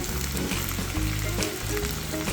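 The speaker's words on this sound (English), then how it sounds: "Add okra into the second pan." Sliced okra sprinkled with lemon juice sizzles loudly in a hot frying pan, a dense, steady crackle of frying up close with no voices.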